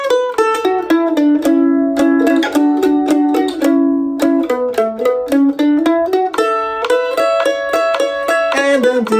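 Mandolin playing the B part of a bluegrass tune, a bright, quick run of picked notes in a steady rhythm, close and loud with no voice over it.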